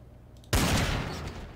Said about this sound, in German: Wow, ich höre Schuss.